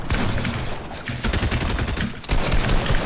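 Dense, rapid gunfire fills a Fortnite match, with loud overlapping shots rattling continuously and no clear pauses.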